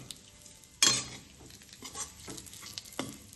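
Edible gum roasts in a pan for dink ladu, with a sharp scrape of stirring followed by soft sizzling and a few quieter spoon scrapes against the metal.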